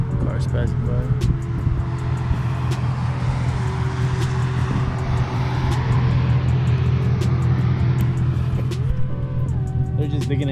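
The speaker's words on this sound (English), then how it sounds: "Cars passing by." Cars passing by on a canyon road, a steady rumble of traffic with engine drone rising and falling continuously, fairly close and loud throughout, with no talking over it.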